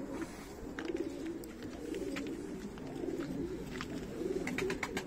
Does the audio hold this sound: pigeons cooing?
yes